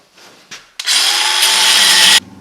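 Power tool grinding through a steel piece held in a vise to cut off a hook, a loud continuous whine lasting about a second and a half after a couple of brief starts.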